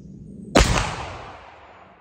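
A single sharp crack from a muzzleloader rifle loaded with 75 grains of powder, followed by a long, fading echo in open air.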